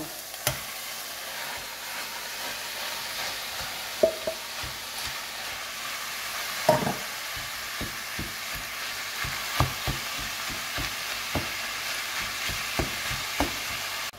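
Meat browning in a pan with seared peppers and onions for lasagne, a steady low sizzle with a string of light, fairly regular utensil taps and scrapes running throughout.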